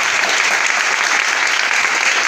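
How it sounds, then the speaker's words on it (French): A church congregation applauds at a Sunday service, welcoming visitors; loud, dense clapping runs steadily throughout with no gaps. "Applaudissez plus fort."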